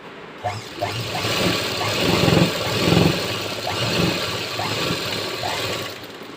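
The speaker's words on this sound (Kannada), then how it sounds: "ನಿಧಾನವಾಗಿ ಈ ಥರ ಸ್ಟಿಚ್ ಹಾಕ್ಕೋಬೇಕು" A sewing machine stitching a blouse runs steadily and close, a continuous whirring hum with a rhythmic mechanical pulse, slowing and swelling slightly as the stitches go in.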